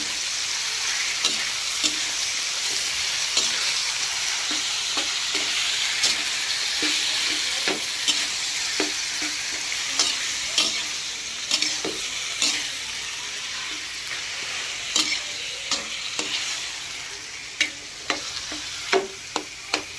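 Scrambled eggs with tomatoes fry in a pan with a loud, continuous close sizzle, while a utensil stirs and scrapes at irregular intervals, the clacks growing more distinct toward the end; no talking.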